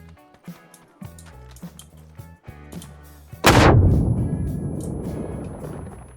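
In the PUBG video game, a grenade bursts with a sudden loud blast inside a wooden house, then rumbles and fades, following a stretch of rhythmic game music.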